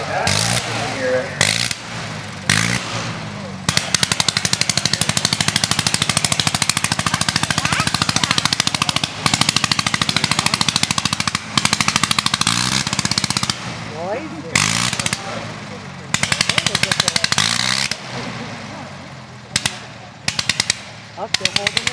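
A Sopwith Camel WWI biplane's rotary engine starts and runs at an airshow, a loud rapid staccato popping and chattering that surges and cuts out repeatedly, with people talking nearby.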